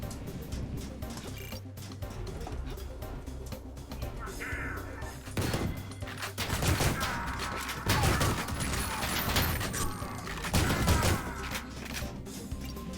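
Gunfire from weapons in the shooter video game Ion Fury, a dense run of bursts and crashes with mechanical clatter that swells louder around the middle and again near the end, with no speech.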